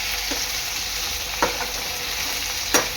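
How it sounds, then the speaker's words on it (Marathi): Soybean chunks fry in a pan until crispy, producing a close, steady hiss of sizzling oil with a few quick scraping stirs. "आणि चांगले क्रिस्पी होईपर्यंत हे तळून घ्यायचे आहे।"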